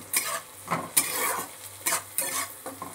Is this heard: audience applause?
no